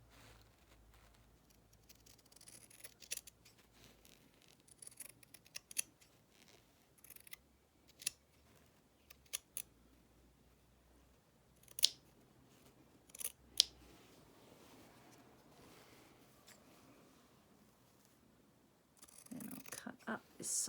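Scissors snip vintage embroidery fabric in scattered, sharp individual cuts separated by quiet handling, close and soft, with a louder rustle of cloth at the end.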